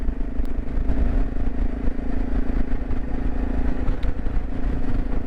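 A motorcycle rides into Etretat, the French coastal town beneath its cliffs, its engine giving a steady mid-pitched drone with clattery road and wind noise throughout, close and continuous, with no voices.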